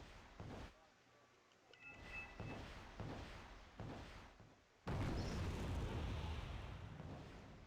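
Mar 290 artillery shells crash down in a wargame tournament match, a series of muffled booming impacts ending in a loud, sustained rumbling blast with a crackling tail.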